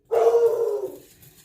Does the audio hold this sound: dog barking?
yes